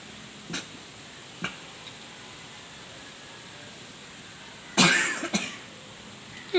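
Coughing at home during a sneezing challenge: two faint short coughs, then a louder close cough burst followed quickly by a second one, over quiet room hiss.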